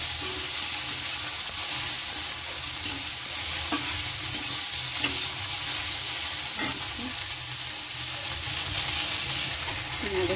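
Okra (bhindi) fries in a pan with a loud, continuous sizzle and hiss, while a spoon stirs through it with several soft scrapes spread across the clip.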